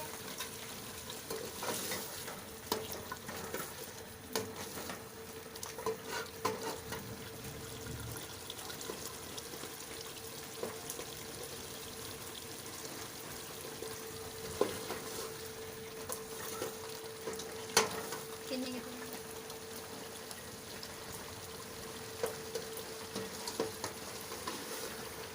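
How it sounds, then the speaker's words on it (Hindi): Meat sizzling in a pan with intermittent scraping and stirring, a steady frying hiss throughout and occasional clinks of a utensil. "ये देखिए हमने इसको अच्छी तरह से भून लिया है।"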